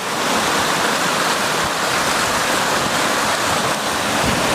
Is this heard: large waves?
yes